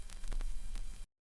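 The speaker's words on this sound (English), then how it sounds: "the next thing I have here is this vinyl crackle" Vinyl crackle sample, a dense hiss of static with scattered pops and clicks, steady and fairly quiet, running for about a second before cutting off abruptly into silence.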